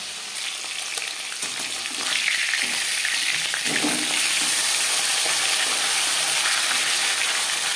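Tilapia fish frying in hot oil in a pan, a continuous close sizzle and hiss that swells louder partway through and holds steady, with no talk.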